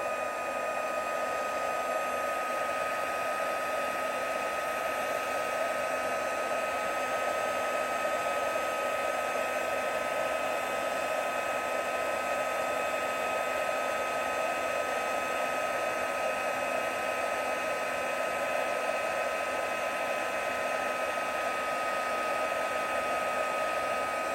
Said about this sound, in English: get your heat tool and heat it up